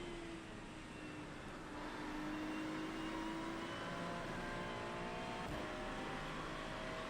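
GT3 race car engine at Spa in an iRacing rain race: a continuous rising engine whine as the throttle is gradually fed in, steady and fairly close, with no talking.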